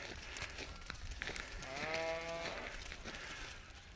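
A long-wool ram, two years old, gives a single drawn-out, wavering bleat around the middle, fairly close and clear over quiet farmyard background.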